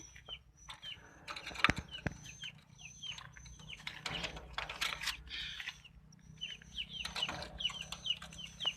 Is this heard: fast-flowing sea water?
no